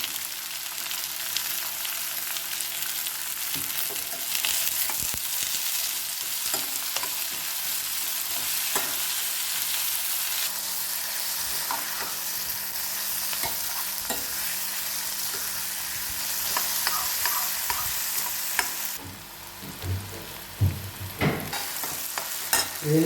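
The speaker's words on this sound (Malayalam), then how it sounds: "ഇതിന് ശേഷം നമ്മുടെ സവോള എല്ലാം ഇതിൽ ചേർക്കുക. എന്നിട്ട് നല്ലതുപോലെ മുരിയണം." Onions sautéing for masala dosa, sizzling steadily in a pan while a spoon scrapes and stirs them in frequent clicks, close and fairly loud, with a brief louder stretch of stirring near the end.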